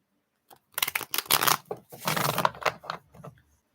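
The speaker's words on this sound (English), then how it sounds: "So I am going to do 3 more shuffles" Playing cards being shuffled in a riffle, a papery burst of rapid flutters that comes in two close, moderately loud runs with brief gaps between them.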